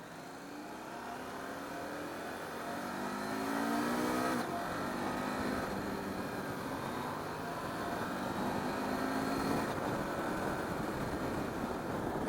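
A KTM 890 Adventure R motorcycle engine pulls hard under wide-open throttle, its rising harmonic whine climbing steadily through gears with brief shift breaks, loud and continuous over wind and road noise.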